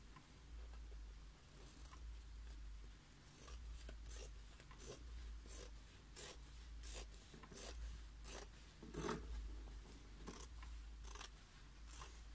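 Scissors cutting diagonally across a 30 by 30 cm square of fabric, giving a steady series of soft snipping and rustling strokes over a low hum, with no talk.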